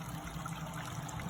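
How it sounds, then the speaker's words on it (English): Water trickles steadily from cup to cup down a homemade six-foot cascading bird fountain, a soft continuous close-up splashing and dribbling with no voices. "All the water is going from the cup to cup, not with minimal spillage."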